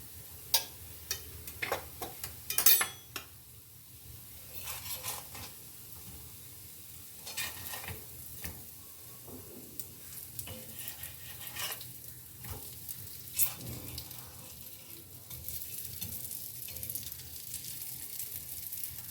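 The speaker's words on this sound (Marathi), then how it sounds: "आता आपण थोडं यावरूनच तूप घालून घेणार आहे आणि त्यानंतर आपण हे पलटी करणार आहे" Potato cutlets for a fast day shallow-frying in ghee in a pan, with a steady low sizzle, scattered sharp clicks and scrapes as a spatula turns them, and a brief clatter near the start.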